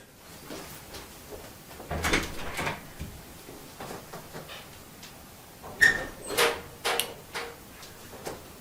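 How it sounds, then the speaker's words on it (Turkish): A door is opened with a Sonoff smart-home door sensor fitted, giving a few soft, close knocks and clicks, then a slightly louder clatter near the end in a quiet room. "Bir şimdi gidelim kapımızı açalım."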